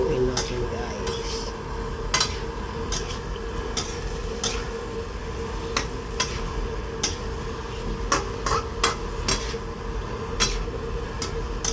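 Soy sauce and vinegar being stirred in a cooking pan, with steady scraping and light clinks of a utensil against the pan over a low sizzle, sharp taps recurring through the mix.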